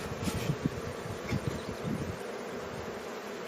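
Honeybees buzz close by at a hive during an inspection while smoke is puffed along the box edges, a steady insect drone with light rustling and brief knocks, and no voices.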